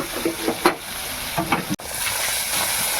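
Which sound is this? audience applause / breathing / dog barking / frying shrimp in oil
frying shrimp in oil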